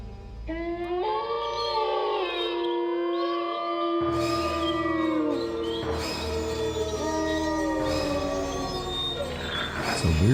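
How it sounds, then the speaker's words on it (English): Several wolves howling in the video game Gabriel Knight 2, long wavering overlapping howls that slide up and down in pitch, loud and sustained over a low background rumble. "It's a weird sounding wolf howl."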